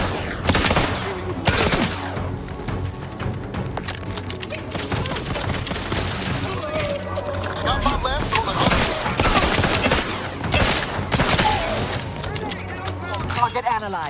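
Dense gunfire fills a firefight in the video game The Outer Worlds 2, with loud, continuous automatic bursts and booming shots layered together and a voice speaking over the battle.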